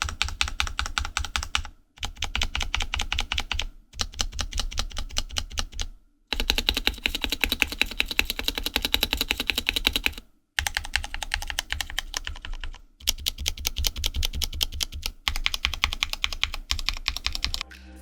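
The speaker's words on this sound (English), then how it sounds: "The wires of the stabilizers are making some scratchy noise." Rapid typing on a K70 Mini Pro keyboard in bursts separated by short pauses, the keystrokes clacking with a faint scratchy rattle from the stabilizer wires underneath, close and fairly quiet.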